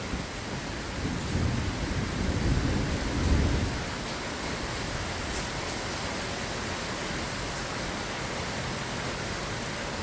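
Heavy rain pours down in a dense, steady hiss, with a low rumble of distant thunder swelling and fading in the first few seconds, and no voices.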